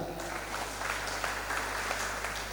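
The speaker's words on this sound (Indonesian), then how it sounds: "beri tepuk tangan buat Tuhan kita" A church congregation applauds during a sermon, a moderate, even patter of many hands over a low electrical hum, lasting the whole stretch without speech.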